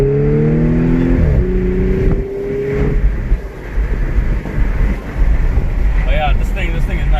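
Cabin view from an Audi S5 with a dual-clutch transmission: the engine note climbs through a gear, then drops into a busy road and wind roar at speed, moderately loud and steady, with faint chirps toward the end.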